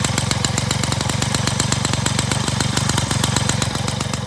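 A 1988 Peugeot 103 Vogue two-stroke moped engine idles steadily up close, a loud, buzzy, rapid putter with an even rhythm and no voices over it.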